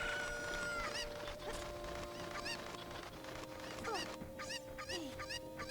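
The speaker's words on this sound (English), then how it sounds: "To land on the fence and have the chicken drop like that." Chickens in the video game Ocarina of Time cluck repeatedly in short, rising calls over steady background game music, moderately loud and close.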